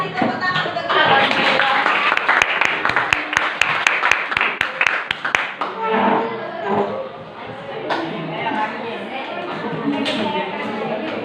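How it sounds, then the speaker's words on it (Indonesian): A school class in Indonesia claps together during a classroom lesson, a burst of sharp, rhythmic, near hand claps in a small room, mixed with children's chatter and voices that carry on after the clapping fades. "tepuk tangan untuk kalian"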